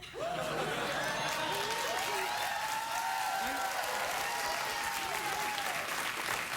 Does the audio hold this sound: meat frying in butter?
no